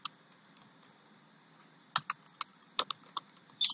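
Quiet, sparse clicks of a computer keyboard as code is typed, coming in short irregular bursts after a near-silent start, close and soft.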